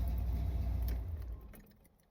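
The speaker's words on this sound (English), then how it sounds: "let's see if she diesels when we turn it off" A 1979 Corvette engine, idling high, is switched off: the low rumble runs steadily for about a second, then fades and dies away into near quiet with no dieseling run-on.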